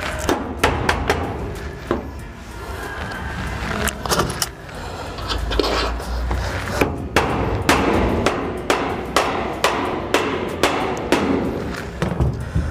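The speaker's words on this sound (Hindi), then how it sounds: "ये जो फास्टनर है इसको यहाँ पे ठोक देंगे" Fastener hammered into a roofing sheet over a rubber washer, a series of sharp metallic blows in an uneven rhythm, close and loud over a rumbling background.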